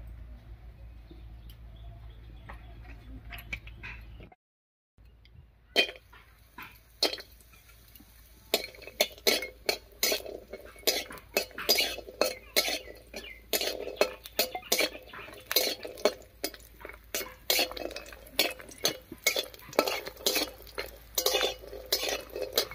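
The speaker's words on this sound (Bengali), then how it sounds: "এবার কড়াইয়ে সর্ষের তেল দিয়ে কয়েকটা ডালের বড়ি ভেজে নেব।" Lentil dumplings (dal bori) fry in mustard oil in a wok. A low hum stops briefly, then sharp metal scrapes and clatters of stirring come in dense irregular bursts over a steady background.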